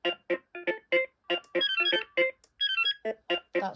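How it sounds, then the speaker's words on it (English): A BT2200 phone ringtone plays a bright, chirpy electronic melody of short repeated beeping notes in quick bursts, clear and fairly close, with no talking over it. "I think I'll choose that ringtone."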